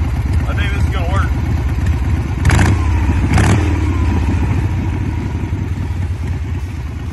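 Motorcycle with an open belt drive primary and a custom open primary cover, cruising down the road, its engine droning steadily close by with a couple of louder revving bursts, partly under a voice.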